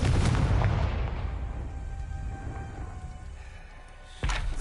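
The Confringo fire spell explodes in Hogwarts Legacy as a loud booming burst that decays into a rumbling tail, with a second sharp impact near the end.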